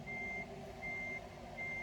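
A DAF truck's backup alarm beeps in a steady repeating pattern in a yard compound, three evenly spaced tones over a low, continuous idling engine rumble, fairly close and clear.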